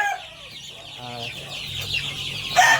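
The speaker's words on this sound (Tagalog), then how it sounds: "dito natin inilagay yung ating mga alagang sisiw" Pet chicks and chickens cluck and peep in a rural backyard coop, a steady cluttered stream of small calls with a louder burst near the end.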